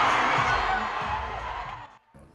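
A live audience roars and cheers as the winner is announced at a children's talent show finale, a dense, loud wash of crowd noise that fades slightly before cutting off near the end.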